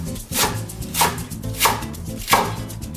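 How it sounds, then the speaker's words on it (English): Fresh cilantro being roughly chopped in a food processor, heard as four evenly spaced, loud pulses of whirring and chopping, each rising and falling off quickly. "Into our food processor. Some fresh cilantro. Give it a rough chop."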